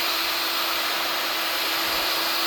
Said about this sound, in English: Sorry, I had to get my gun right. And I'm going to heat this up.